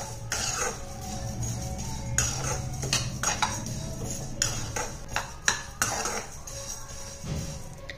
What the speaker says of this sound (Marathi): हे आपल्याला हलकेसे 2 ते 3 मिनिटं ते पुटपुट होईपर्यंत आपल्याला भाजून घ्यायचं आहे